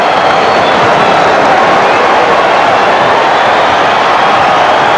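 Basketball crowd at the Boston Garden during a 1989 Celtics versus Mavericks game, a loud, steady roar of cheering and hubbub in a large arena, continuous and dense without breaks.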